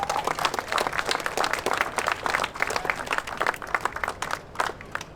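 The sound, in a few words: crowd applause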